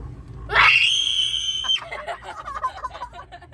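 A person screams on a cable car ride at Ocean Park Hong Kong, one long loud high wail held for over a second, then trailing into excited chatter and laughter nearby.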